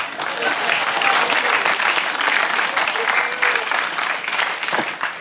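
A studio audience on a French television talk show applauds, a thick, continuous wash of clapping at a steady level, with a slight dip toward the end.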